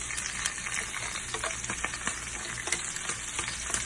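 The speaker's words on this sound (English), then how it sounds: "Now I'm going to add our cabbage." Blanched cabbage hitting a hot frying pan gives a steady, close sizzle and crackle with light stirring scrapes, continuous and fairly loud with no voices.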